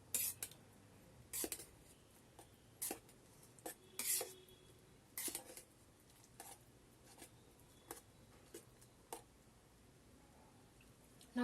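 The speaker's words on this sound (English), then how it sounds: "Mix it nicely." A utensil stirs soupy vermicelli inside an electric kettle, sounding as a series of sharp metallic clinks and taps at an irregular pace, quiet between strikes, with no talking.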